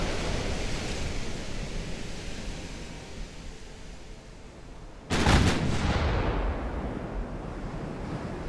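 A single heavy naval gun blast from a battleship in Ultimate Admiral: Dreadnoughts booms out midway over a steady sea-and-wind wash, then its rumble fades back into the ambience.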